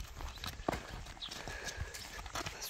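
A horse's hooves clip-clop at a steady walk on hard ground, with irregular clattering steps close by and some faint background noise.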